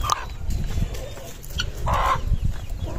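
Aseel hens cluck in a farmyard, several short, close clucks and calls in an uneven rhythm over soft background noise.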